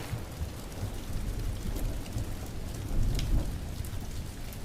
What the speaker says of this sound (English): The rain hadn't stopped